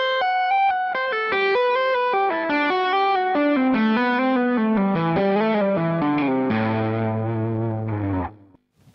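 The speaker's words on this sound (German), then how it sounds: "So klingt der Lick auf halber Geschwindigkeit, also Tempo 58." Electric guitar lick played with two-hand tapping and slides through distortion and chorus effects: a fast, loud run of ringing tapped notes that climbs and falls, ending on a sustained chord that cuts off abruptly.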